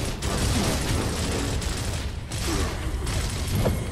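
Dense, continuous gunfire in the Gears of War shooter, rapid automatic bursts and mechanical clatter close and loud throughout, with a grenade thrown in the middle of the firefight and no clear separate blast.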